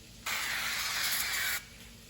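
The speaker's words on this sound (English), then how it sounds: "spray it with cooking spray." A single steady hiss of cooking spray onto oven-baked popcorn lasting just over a second, close and even, starting and stopping abruptly.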